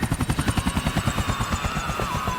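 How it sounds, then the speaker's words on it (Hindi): Helicopter shot down and falling in the GTA IV video game, its rotor thumping in a loud, fast, steady rhythm that blurs into a continuous whine with engine drone. "Helicopter will fall down when you shoot at them."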